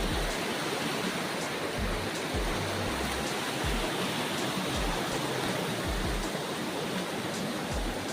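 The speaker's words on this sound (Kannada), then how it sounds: "ಗೈಸ್ ಅಂತೂ ಫಾಲ್ಸ್ಗೆ ಎಂಟ್ರಿ." A local waterfall rushes in a steady, dense roar of falling water, loud and continuous with no pauses or voices.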